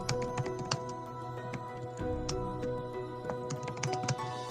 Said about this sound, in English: it's like he's hitting his keyboard with a hammer